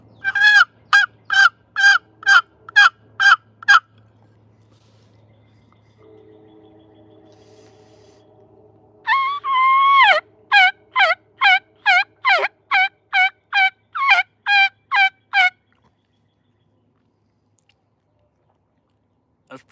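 Turkey gobbles imitated by a person using a diaphragm turkey call: two bursts of rapid, sharp, evenly spaced yelping notes, close and loud, separated by a quiet pause with faint low voice-like sounds.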